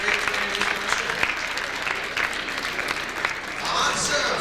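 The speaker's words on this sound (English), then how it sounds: "Go ahead and clap if you're great at playing a musical instrument." Audience at a New Jersey State Elks Association peer leadership event clapping steadily for several seconds, a dense crowd applause that swells slightly toward the end.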